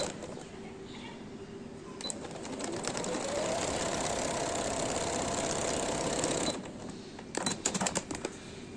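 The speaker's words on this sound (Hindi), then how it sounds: "थोड़ा सा पक्का करके साथ ही साइड की सिलाई भी लगाऊंगी" A sewing machine stitches the side seams of a newborn baby shirt, a steady, close mechanical whir running for several seconds before stopping, followed by a few faint clicks.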